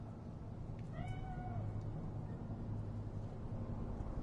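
A cat in the Cyberpunk 2077 game gives a single short meow over a steady low background hum, fairly faint and alone without talk.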